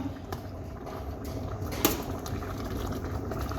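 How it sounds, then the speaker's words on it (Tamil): A pot of fish curry bubbles steadily at a rolling boil, a dense simmering crackle with one brief clink partway through; no voices. "நல்லா பொங்கி கொதிக்குது"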